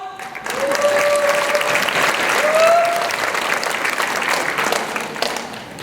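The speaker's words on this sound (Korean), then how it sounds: "잠깐 일어나시면 한번 환영의 박수" A church congregation gives warm welcoming applause, a full room of clapping that swells and holds steadily, with a few voices calling out over it.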